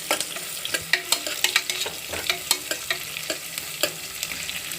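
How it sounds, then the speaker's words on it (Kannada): Onions fry in a pan for pulao, sizzling steadily while a spoon stirs and scrapes in repeated sharp clinks, close up with no talk. "ಈರುಳ್ಳಿ ಚೆನ್ನಾಗಿ ಫ್ರೈ ಮಾಡ್ಕೊತಿದ್ದಾರೆ"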